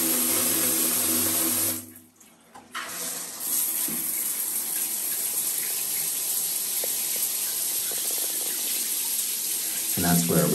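A shower runs during a house inspection in Arzachena, Sardinia, a steady close hiss of spraying water that briefly dips, then continues evenly to the end.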